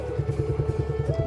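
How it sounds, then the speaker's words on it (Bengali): A motorcycle idles on a village road as it is turned around, a close, steady low engine putter with rapid rhythmic pulses and a slight rise in pitch near the end. "চলেন বাইকটা ঘুরাই নি।"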